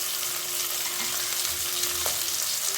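Cut okra pieces fry in hot oil for a peppery okra stew, a dense, even sizzle close up that runs throughout, with a faint clink of stirring and no voices.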